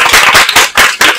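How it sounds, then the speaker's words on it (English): Audience applause after a talk by an animation studio recruiter, loud close clapping from a small crowd in dense overlapping bursts that swell and dip over about a second. "Let's all give her a round of applause."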